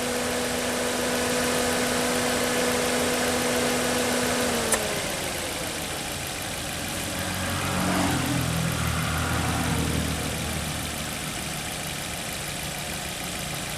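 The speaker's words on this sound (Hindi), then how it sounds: "इंजन की आवाज़ आ रही है, कैमरामैन को आवाज़ आ रही है इंजन की" A car engine idles steadily with the air conditioning running, then the compressor cuts out when the AC is switched off, leaving a lower, softer idle that continues alone and close by.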